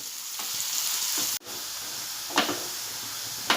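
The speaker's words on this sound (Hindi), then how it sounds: "मैंने फ्राई पैन में तेल में प्याज डाली हूँ। अब इसे हम हल्का गोल्डन होने तक तलेंगे।" Onions fry in oil in a frying pan with a loud, bright, continuous sizzle close up. The hiss drops out for a moment, then resumes, with brief scraping stirs cutting through it.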